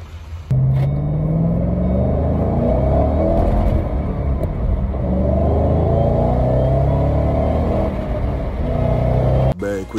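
A Duramax pickup truck hauling cars on the road produces a steady, heavy low engine and road rumble from inside the cab, continuous and loud before cutting off near the end.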